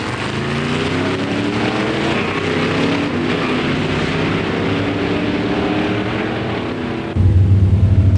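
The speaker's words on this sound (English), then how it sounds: "In the near lane, Dennis Barr's 69 Chevelle 350 automatic. In the far lane, Russell Wiseman 68 Olds 442 400 4-speed." Two drag racers, a 1969 Chevelle 350 automatic and a 1968 Olds 442 400 four-speed, roar at full throttle in a loud, sustained engine drone that jumps to a deeper, louder blast near the end.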